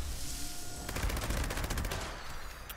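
Gauss minigun in Fallout 76 firing a rapid, evenly spaced burst of shots over about a second, loud and close against a dense roaring battle background.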